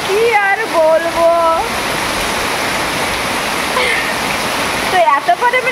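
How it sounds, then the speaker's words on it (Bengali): Heavy rain pours in a dense, loud, steady roar that fills the whole scene, with a person speaking over it at the start and again near the end. "এত পরিমাণে বৃষ্টি হচ্ছে"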